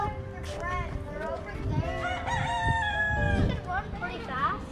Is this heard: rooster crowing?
yes